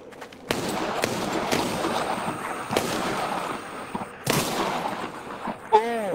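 Gunfire in the VR game Arizona Sunshine, several sharp separate shots spaced irregularly over a constant background of game sound, with a short ringing effect near the end.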